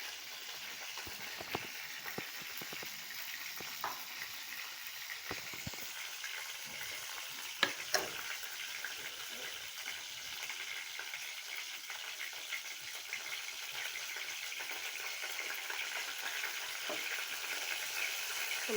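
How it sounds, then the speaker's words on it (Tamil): Cumin seeds frying in hot oil, a steady soft sizzle with light crackles and occasional small pops throughout, no talking. "நான் சும்மா 2 சீரகம் சேர்த்துருக்கேன்."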